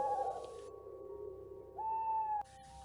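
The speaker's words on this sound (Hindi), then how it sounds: "दूर जंगल से उल्लू की आवाज आ रही थी" An owl hoots from a distant forest on a misty night, long, steady, low tonal calls, faint and hollow, with a pause between them and nothing else audible.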